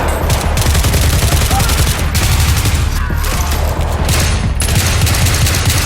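Rapid gunfire from the video game Battlefield 3 in its close-quarters mode, dense bursts of shots and booms continuing loudly throughout with no pause.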